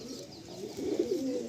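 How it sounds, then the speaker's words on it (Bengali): Pigeon cooing softly while being handled and released, a low murmuring coo that rises slightly toward the end, faint and close against a quiet rustling background. "ছেড়ে দিচ্ছে আমরা পায়রাটা"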